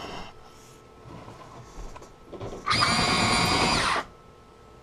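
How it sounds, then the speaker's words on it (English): A Huina 1580 V5 toy excavator's claw attachment gives a loud, close motorized whirring and clicking burst of about a second and a half, followed by a quieter stretch and a sharp click at the end. "that clicking you hear is just a safety feature"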